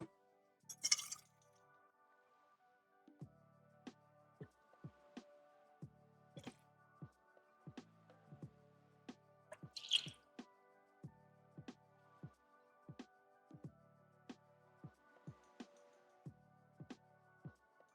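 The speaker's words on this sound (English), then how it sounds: "Let me just refill my water." Water being poured to refill a glass indoors on a rainy day, heard as a series of small, close drips and clinks in a fairly regular rhythm, with a couple of brighter glassy chinks and no talking.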